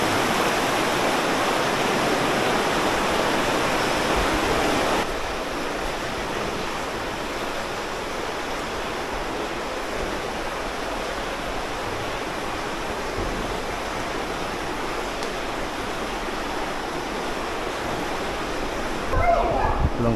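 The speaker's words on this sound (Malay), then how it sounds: "itu adalah aliran air sungai yang mengalir di lantai Gua Kelam ini" An underground river running along the floor of Gua Kelam cave in Malaysia gives a continuous broadband rush of flowing water, steady and fairly loud throughout, with a slight drop in level partway through.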